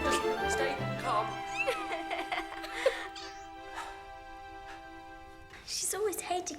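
A cat meows and wails in rising, strained cries amid chaotic talk, with a loud yowl returning at the end.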